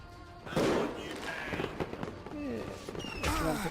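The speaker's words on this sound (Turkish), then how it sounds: "Havai fişek atıyorlar ha." Fireworks crackle and pop in the Western video game Call of Juarez Gunslinger, several bursts spread through a busy soundscape, with someone talking over them.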